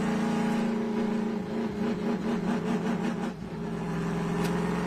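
A race car engine at the Atlanta SpeedTour idling and revving unevenly as the car is moved slowly off the track under caution, a steady close mid-pitched drone with brief throttle blips.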